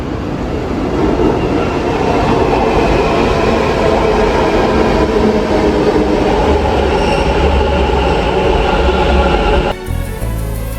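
A Bangalore metro train rumbles loudly and continuously from inside the carriage, with a steady low roar, faint wheel squeal and track clatter throughout, easing near the end; no talking.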